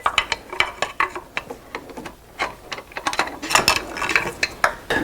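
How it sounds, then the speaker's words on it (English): A ratchet wrench clicks in quick, uneven bursts while a Chrysler Town & Country AC compressor is fitted, the sharp pawl ticks close and loud with short pauses between strokes and no talking. "I'm gonna remove my ratchet here."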